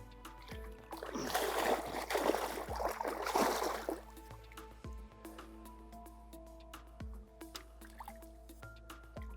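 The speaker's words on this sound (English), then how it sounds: "If he's going to thrash about like that, I'd much rather he did that in the water rather than out of it." A large carp thrashes in lake water at close range, bursts of heavy splashing and sloshing over about three seconds, then only small drips and faint knocks against a quiet outdoor background.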